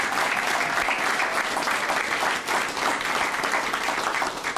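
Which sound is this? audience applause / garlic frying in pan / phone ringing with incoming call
audience applause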